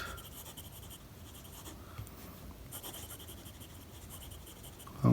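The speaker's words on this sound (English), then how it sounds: "And now let's have a small writing sample" A Mohi double-nibbed fountain pen filled with Lamy bronze ink scratches across paper, a faint, close, continuous scratching with brief louder strokes and a soft bump at the end.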